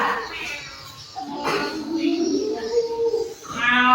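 A child imitates a cat's meow with a voice, giving two drawn-out meows in a classroom setting, close and clear with a slight murmur of other children nearby.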